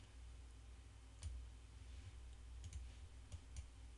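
A few sharp computer mouse or key clicks, close and quiet, scattered over steady background hum while a Praat listening test runs.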